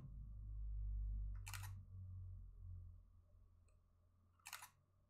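A Fujifilm X-E3 mirrorless camera shutter fires in its 8 frames-per-second burst mode, giving two short rapid clusters of clicks a few seconds apart over a low room hum, close and otherwise quiet.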